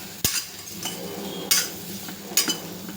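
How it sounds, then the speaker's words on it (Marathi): Vegetables for a quick soybean pulao sauté in a pan with onion-garlic masala and red chilli powder, three sharp spoon strikes against the pan over a soft, steady sizzle. "छान मिक्स करून घेऊया छान परतून घ्यायच्या आहे भाज्या"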